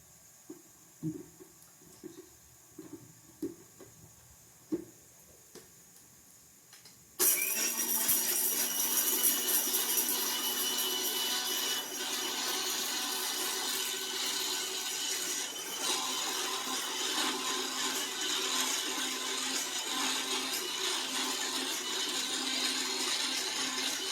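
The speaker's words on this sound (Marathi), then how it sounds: "आता हा मिक्सरमध्ये मसाला बारीक करायचा" An electric kitchen mixer grinder blends a masala of onion, chana dal, garlic, ginger, coconut and spice powders, starting abruptly after a few soft handling knocks and running as a loud, steady whirring roar.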